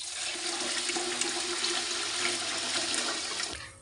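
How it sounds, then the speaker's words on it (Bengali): Water being poured into a large cooking pot for Chittagong-style madhubhat, a steady rushing and splashing gush, close and continuous, tapering off at the end, with no speech. "এখন দিয়ে দিচ্ছি পানি।"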